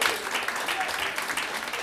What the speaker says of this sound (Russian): Спасибо, что вы хлопаете.